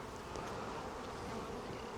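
Honey bees buzz steadily and densely around a hive frame during a beekeeping inspection, a close, continuous hum with no talking.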